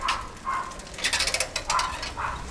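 Rented bicycle in Sri Lanka with no brakes and a spinning seat, its worn mechanism clicking and rattling in irregular bursts close by, a ratchet-like chatter repeating through the ride.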